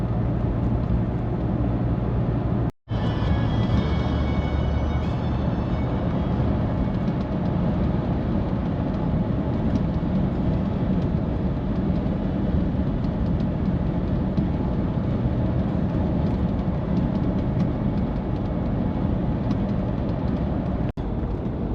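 A van cruising along the A1 motorway near the Scottish border, with a continuous loud drone of engine and road noise, a brief dropout early on, and no talking.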